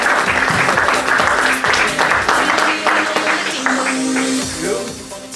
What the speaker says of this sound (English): please help me give a warm welcome, round of applause to Mr. John Malatesca.